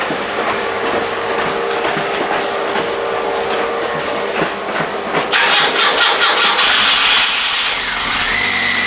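A Classic Mini 1275 engine running after repairs, a steady mid-pitched mechanical drone with a rattling rhythm that grows louder and brighter about halfway through, no voices.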